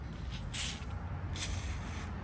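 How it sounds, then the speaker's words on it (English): Penetrating oil is sprayed onto a truck wheel hub in two short, close hissing bursts about a second apart, over quiet room background. "I'm going to spray a little bit of this penetrating oil on here."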